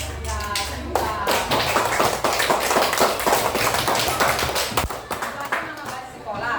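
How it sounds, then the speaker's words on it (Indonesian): Schoolchildren clapping in a classroom, a rapid, uneven patter of many small hands that runs close and steady throughout, with children's voices mixed in. "Tepuk tangan."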